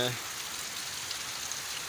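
Heavy monsoon downpour near a filling dam, a steady, dense hiss of rain on surfaces, with a brief voice at the very start.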